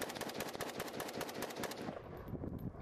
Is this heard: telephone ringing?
no